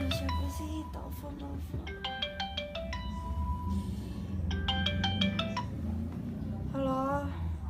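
A melodic phone ringtone plays in repeated bursts of quick high beeping notes over a busy indoor background, with a warbling tone at the end and people talking faintly around it.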